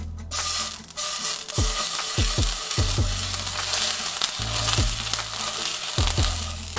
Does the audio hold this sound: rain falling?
no